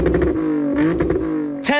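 A V6 car engine revs through an axleback exhaust with high flow resonators, a loud, close, rising and falling drone that ends in a sharp upward rev.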